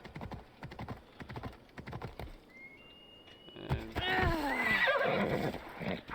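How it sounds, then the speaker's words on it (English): A horse in a video game clip-clops along with a rapid patter of hooves, then lets out a loud, wavering whinny that rises and falls over the final seconds, with faint clicking in the background. "now we'll use our horse to run over there"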